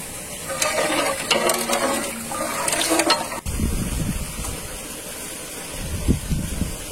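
Milk poured into a pot of tender-coconut (elaneer) payasam, a liquid splash and gurgle with stirring in a village kitchen, a brighter pour for about three seconds then settling into lower bubbling sounds.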